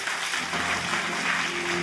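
Church congregation clapping together during a worship service, a dense, even wash of applause held steady throughout without a clear break or voice.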